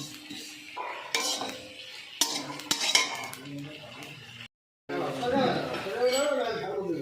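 A spoon scrapes and clatters against a dry metal wok while dry-roasting spices in uneven strokes, with a voice talking intermittently over the stirring.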